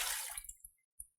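Water poured into a stand mixer bowl for white bread dough, a close, fairly loud splashing rush that fades over about a second, with a few small drips and a final splash.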